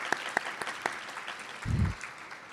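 Sparse individual claps from a small audience at an induction ceremony, several distinct sharp claps spaced apart, followed by a low thump.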